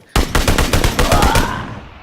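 In PlayerUnknown's Battlegrounds, a sudden burst of rapid automatic gunfire cracks out about ten loud shots in a quick, even rhythm. The last shots trail off into a fading echo.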